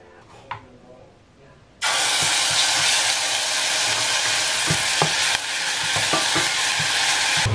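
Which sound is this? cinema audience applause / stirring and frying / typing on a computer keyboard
stirring and frying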